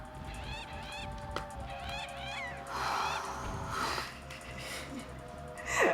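Seagull-like birds squawk repeatedly in The Legend of Zelda: The Wind Waker, sharp rising cries in quick bursts early on, followed by noisy game effects and a dull thump or two, with a voice talking over parts of it.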